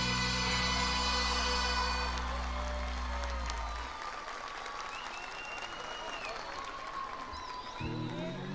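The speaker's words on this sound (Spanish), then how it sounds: "Fuertes aplausos para esta banda en vivo." An audience at a live cuarteto show in Santiago del Estero breaks into sustained, broad applause and crowd noise while band instruments fade out under it, with someone talking over the clapping.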